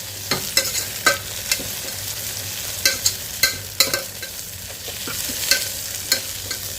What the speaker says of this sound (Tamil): ஒரு 1 நிமிஷத்துக்கு நல்லா அதை அப்படியே பிரட்டி விட்டுக்கலாம்.